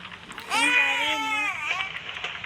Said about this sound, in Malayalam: അവൻ കരയുന്നു ഗൈസ്